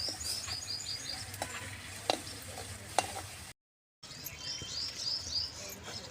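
Melted jaggery syrup stirred in a pan over low heat, soft bubbling and scraping with a couple of sharp utensil knocks, a brief gap of silence, and faint bird chirps in the background.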